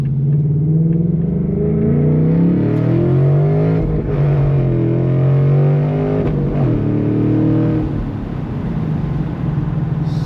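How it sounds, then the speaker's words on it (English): A 5.0 V8 Mustang exhaust with the resonator removed burbles and rumbles loudly from inside the moving car, rising and falling with acceleration, with deep low-pitched pops as it eases off. "Just the burble roll that it has now."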